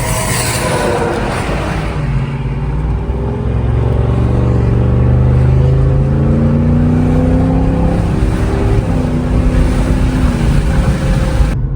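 A car with a Corsa performance exhaust runs steadily and climbs in pitch as it accelerates, a deep, throaty exhaust drone rising and falling through gear changes, close and loud.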